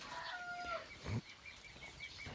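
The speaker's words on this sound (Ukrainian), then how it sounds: "Півники кукурікають." A rooster crows faintly in the distance amid outdoor ambience, with a sharper close bird call near the end.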